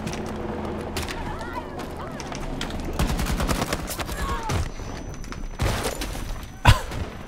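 Rapid bursts of AK assault rifle fire in the Battlefield 2042 shooter, with repeated close shots clustered in volleys, a louder crack near the end, under ongoing battlefield noise and occasional talk.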